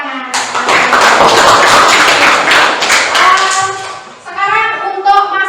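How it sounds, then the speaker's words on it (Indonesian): A high school class in Indonesia applauds after a presentation, a loud burst of dense, close clapping that lasts several seconds before children's voices and chatter take over. "Oke, tepuk tangan."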